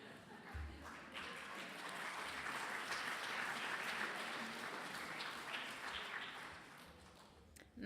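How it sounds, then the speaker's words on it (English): Steady applause from an audience fills the hall at a debate event, a dense even patter of many hands clapping, fairly faint and sustained before tapering off at the end. "You can clap."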